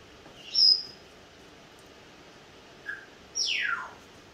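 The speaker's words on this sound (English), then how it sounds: "Sorry for the bird in the background. There's no mute on a parrot" A pet parrot calls in the background during a 3D printer gantry assembly, giving a few faint, distant squawks: a short sharp call, a small chirp, then a longer descending screech over a quiet room.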